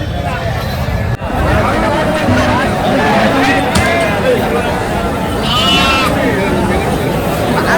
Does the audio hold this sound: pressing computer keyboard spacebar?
no